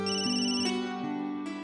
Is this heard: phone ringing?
yes